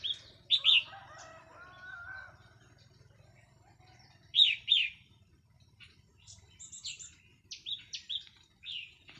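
Crested bulbuls (wild-caught red-whiskered bulbuls) sing in short chirping bursts, a few calls spaced apart over a low rumbling background, moderately near, with no one speaking.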